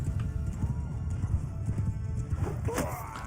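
Galloping horses in Mount & Blade 2: Bannerlord pound out rapid, dense clip-clop hoofbeats up close, with a neigh rising near the end amid battle noise.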